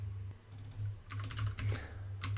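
Quick bursts of keystrokes on a computer keyboard as a Finnish word is typed, close and crisp, in short uneven clusters over a low steady hum, with no voice.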